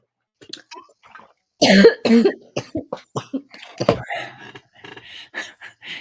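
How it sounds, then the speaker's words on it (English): A string of harsh, close coughs and throat clearing, loud bursts coming in quick uneven succession after a few quieter sounds at the start. "In between coughs."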